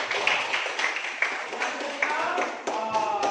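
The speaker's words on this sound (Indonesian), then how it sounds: "tepuk tangan untuk kelompok" A classroom group claps together, a fast, dense, moderately loud patter of many hands that continues steadily, with a few voices audible underneath.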